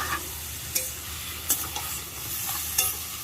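Potatoes and fried lentil dumplings going into a sizzling pan with salt and turmeric, a steady close fry with a few sharp stirring clatters spaced through it.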